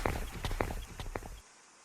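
Horses clip-clopping in a video game set among Picts and Romans, a quick run of hoof clops close and fairly loud, then stopping abruptly into near silence.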